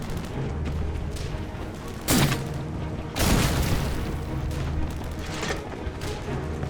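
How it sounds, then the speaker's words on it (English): Sharp rifle shots crack out in a World War II battle scene as German infantry take cover and return fire, two loud bursts standing out over a murky rumble of distant combat. "the German infantry finds cover and returns fire"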